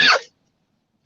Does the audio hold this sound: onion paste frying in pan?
no